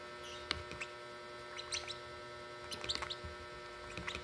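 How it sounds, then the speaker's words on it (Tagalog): Two-week-old baby lovebirds give thin, high chirps and squeaks during hand-feeding, in scattered short bursts over a steady low background hum. "inakay pa lang sila. 2 weeks pa lang ito. Lovebirds po ito guys."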